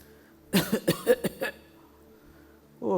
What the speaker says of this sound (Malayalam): ഈ ചുമ എന്നെ കൊണ്ടേ പോകുള്ളൂ